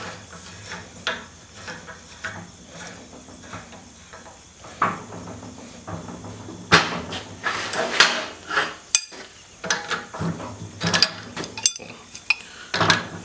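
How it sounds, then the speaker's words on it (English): Pipe clamp threads being cranked down in a blacksmith shop, a run of small metallic clicks, ticks and scraping taps that grow busier and louder toward the end, over a faint background hum. "Let's crank this down a little bit."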